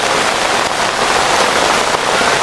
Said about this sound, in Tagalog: Malakas yung ulan po.